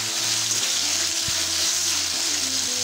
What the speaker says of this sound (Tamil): ஒரு நிமிஷம் வதக்கிக்கலாங்க அப்படியே கைவிடாமல்.